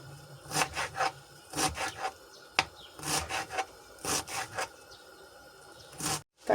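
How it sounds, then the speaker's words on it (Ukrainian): A knife slices green onion with white parts on a board for a cabbage salad, giving a run of quick, close rasping cuts in short bursts with brief pauses between them. "Я цибульку нарізаю із білесеньким"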